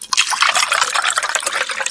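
Ice cubes tumbling into a glass, set up as a pour of Regal Deluxe, give a bright, busy clatter with liquid splashing and trickling throughout, close and fairly loud with no talk.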